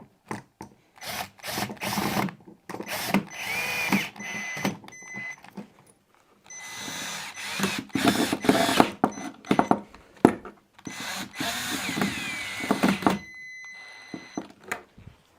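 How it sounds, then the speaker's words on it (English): A power drill drives screws into a wooden display table in several short whirring bursts with pauses between them, close and fairly loud, with faint clicks and handling knocks in the gaps. "And we can drive the screws home."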